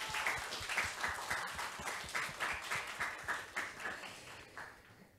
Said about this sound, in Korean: 힘찬 박수로 시작할까요?